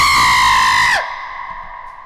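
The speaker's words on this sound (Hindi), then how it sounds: "किसी ने चीख मारी" A single loud, harsh scream in a dark sewer tunnel, sustained for about a second and then cut off sharply, leaving a faint lingering ring.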